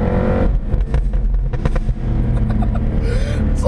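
Jaguar F-Type engine revving hard in first gear up to about 6,000 rpm, then lifting off, loud and close with a steady roar and popping crackles on the overrun.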